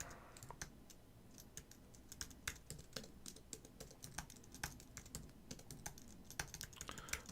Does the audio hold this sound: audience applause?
no